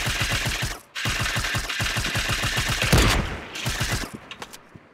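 Automatic gunfire in Fortnite rattles in fast, even bursts, loud and close, pausing briefly before the stream resumes and then trails off into a few scattered shots.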